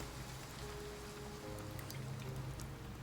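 A steady rain downpour in the game Love and Deepspace, a soft, even hiss of drops with a few faint low tones underneath.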